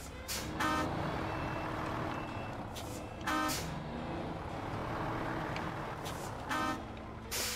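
Truck horn honking in the SnowRunner off-road driving game, several loud toots repeating at intervals of roughly three seconds over a steady, heavy engine rumble.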